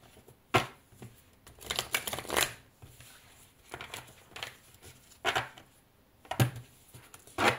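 Tarot cards are shuffled by hand in repeated riffling bursts, with crisp papery flutters and soft taps coming in clusters with brief pauses between them, close and fairly quiet.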